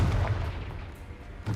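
Confringo fire spell explosion in Hogwarts Legacy: a dense, booming low-end blast at the start that rolls into a rumbling decay, with another thump near the end.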